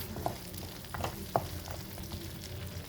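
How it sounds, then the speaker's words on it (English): Masala with Kashmiri chili paste fries in a pan for paneer butter masala, giving a soft, steady sizzle with occasional stirring clicks and scrapes. "Now fry for a few more seconds until that raw smell goes."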